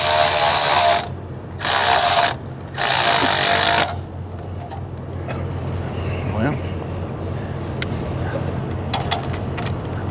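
Three loud bursts of rapid ratchet clicking, close by, tightening an injector connector on a truck's number four injector, followed by quieter mechanical handling noises.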